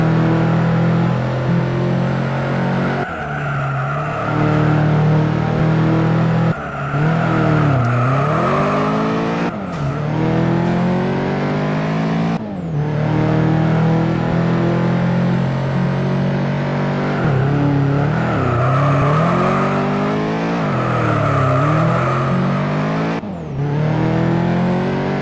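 A Honda CRX engine in the racing game Juiced, driven hard and loud: sustained revving with repeated upshift drops and swooping pitch changes over about 25 seconds, with no talking.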